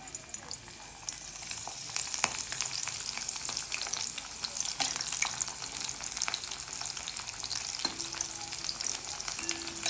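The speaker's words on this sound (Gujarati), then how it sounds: "ધીમા તાપે તમને જેટલા ક્રિસ્પી જોઈતા હોય એટલા તળી લેવાના" Fenugreek millet-semolina vadas deep frying in hot oil over a low flame, with a steady close sizzle and bubbling that runs without a break and swells slightly toward the end.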